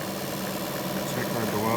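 Sun distributor test machine running steadily at roughly 400 to 500 RPM, a continuous mid-pitched mechanical hum and whir heard up close with no clear break.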